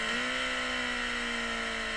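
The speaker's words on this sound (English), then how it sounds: "That's the sound of engine braking." A motorcycle engine under strong engine braking right after a sudden downshift from fourth gear, giving a steady, droning engine tone that holds at a fairly even pitch, heard alone and at moderate volume.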